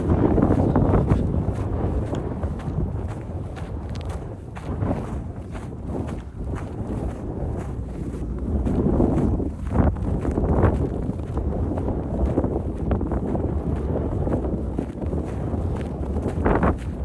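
Wind blows steadily outdoors, a broad rushing roar with gusts that swell around the middle, buffeting the microphone and carrying faint scattered thumps that resemble passing footsteps.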